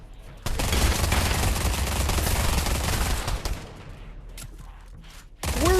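Sustained rapid automatic gunfire in a first-person shooter video game, loud and dense for about three seconds, then tapering to scattered shots before another burst at the end.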